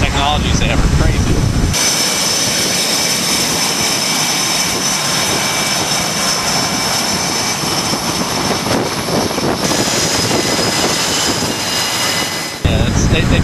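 A jet aircraft launched by catapult from the deck of the aircraft carrier USS Eisenhower roars loud and close in a sustained, broad engine blast that holds steady and then cuts off abruptly.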